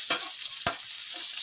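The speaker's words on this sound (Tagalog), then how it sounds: "Maggisa tama guys o sibuyas o ahos." Onion and garlic sautéing in a pan, a steady bright sizzle with two short knocks of a utensil against the pan, no voices.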